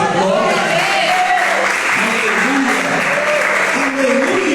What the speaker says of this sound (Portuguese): Você pode aplaudir o Rei da Glória?